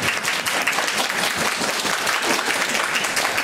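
An audience at a forest concert at Mitsugi Hachimangu shrine, following a taiko drum group, gives sustained, even applause: thick, close clapping with no pause over several seconds.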